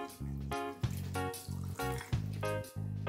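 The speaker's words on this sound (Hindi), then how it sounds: "हम इसमें थोड़ा सा पानी डालेंगे।" A little water poured into a mixer jar holding a methi matar paste mixture, heard as close, fairly quiet gurgling glugs in an uneven rhythm of about six pulses, with no talking.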